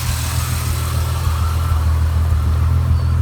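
A modified car's engine rumbles at a steady idle as it gets ready to set off, loud and close, with a deep throaty drone that swells slightly toward the end.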